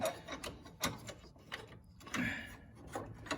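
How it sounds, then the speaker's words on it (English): A ratchet with a 13 mm socket tightens a carriage bolt while a John Deere LT150 tractor's transmission drive belt is installed, giving a series of close, uneven mechanical clicks and clunks. "13 millimeter socket. And as a carriage bolt, it should tighten right up."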